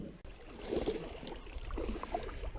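Paddle strokes and water sloshing around a canoe or kayak on the Genoa River, soft and close, with small splashes and drips over a couple of seconds.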